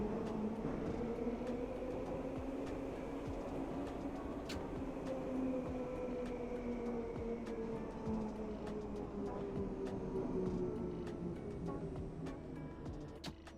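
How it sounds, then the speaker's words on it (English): A London Underground Bakerloo line train at Piccadilly Circus in Train Sim World 4 gives off a steady, close electric motor whine and rumble, with rising and falling tones and occasional rail clicks throughout, no talking. "This is a Bakerloo line train to Elephant and Castle"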